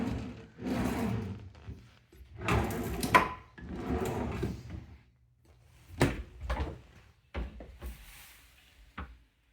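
A wooden dummy drawer in an older house at 2413 Pine St slides and thumps through several opening and closing strokes, with sharp knocks and scraping rumbles, close and loud.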